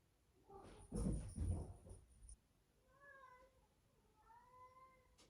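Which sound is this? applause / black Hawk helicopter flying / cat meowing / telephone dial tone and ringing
cat meowing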